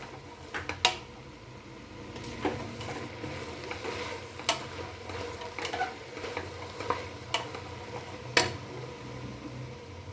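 Coriander powder and garam masala frying in a pan for vegetable curry: a soft sizzle runs underneath while a spoon scrapes and taps the pan in scattered, irregular strokes, quiet and close.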